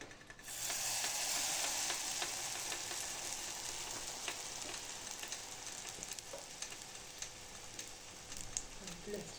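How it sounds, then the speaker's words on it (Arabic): Moroccan sfenj dough drops into hot oil and fries with a bright, steady crackling sizzle that starts suddenly and continues evenly, fairly quiet and close, with small pops scattered through. "غنديرها في الزيت. دابا نديرو وحده اخرى."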